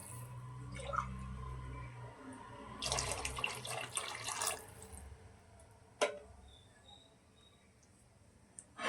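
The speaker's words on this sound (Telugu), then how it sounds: "ఇప్పుడు ఇది వాటర్ పోసుకుంటా అండి" Water splashes into a cooking pot for vegetable rice in a short, bright pouring burst, followed by a few faint drips and clinks in a quiet kitchen.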